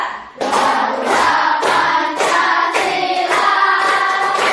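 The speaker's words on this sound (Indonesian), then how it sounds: "kita nyanyinya boleh sambil tepuk tangan ya" A group claps along in a steady rhythm while singing Garuda Pancasila, the claps loud and close, with voices singing throughout.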